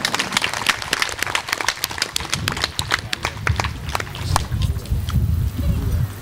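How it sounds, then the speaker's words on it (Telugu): A church congregation at a prayer meeting in St. Joseph's Church claps loudly in a quick, rhythmic run of sharp hand claps, which thin out toward the end beneath low murmuring. "గట్టిగా చప్పట్లు కొట్టి కూర్చున్నామా"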